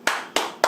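Three sharp, close hand claps at a steady, evenly spaced rhythm, one person clapping, with no talk over them.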